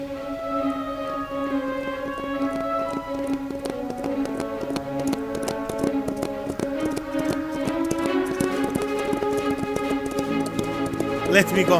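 Horses gallop with a rapid, continuous clatter of hooves, mixed under a swelling orchestral score and shouting from riders in a Zorro chase.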